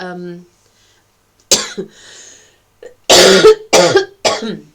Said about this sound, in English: Sorry, this is my cough now.